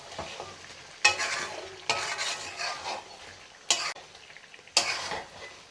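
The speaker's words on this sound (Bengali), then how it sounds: "আপনারা এভাবে ঢাকনাটা উঠিয়ে আরও কিছুক্ষণ এটা ভেজে নেবেন।" Chicken and potatoes fry in a pan under a steady sizzle, with several loud scraping stirs that come in bursts about a second apart, close to the microphone, and no talking.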